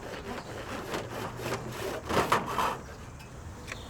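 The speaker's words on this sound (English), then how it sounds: "Then simply cut the downpipe on the red dotted lines." A metal rainwater downpipe for a small tank on a metal shed is cut with a hand saw, giving several rasping strokes at close range that grow louder near the end, with no talking.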